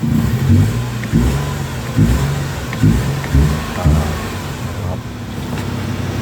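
Nissan March car engine started with a push button, the engine turning over and then running with a few revving surges over a steady low mid-pitched hum, recorded close by.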